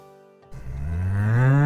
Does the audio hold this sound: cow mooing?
yes